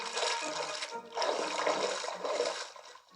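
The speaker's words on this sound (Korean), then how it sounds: "사나이는 쥐들이 쫓아오는 것을 확인하고는 강 속으로 첨벙첨벙 걸어 들어갔어요" Water sloshes and splashes in rushing bursts as a man wades into a river, close by, with a broad churning noise that swells and fades.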